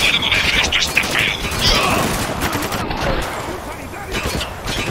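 Rapid gunfire fills a firefight in the video game Spec Ops: The Line: dense, loud bursts and cracks layered with shouted voices throughout.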